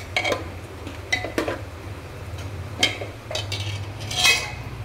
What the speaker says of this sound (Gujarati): હવે આપણે જે છે એમાં એને હલાવીશું, થોડું પ્રોપર રીતે હલાવી લેવાનું છે